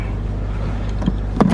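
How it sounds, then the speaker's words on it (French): Inside a moving car, a steady low engine and road rumble fills the cabin, with a couple of brief clicks near the end. "Là, nous sommes dans la voiture."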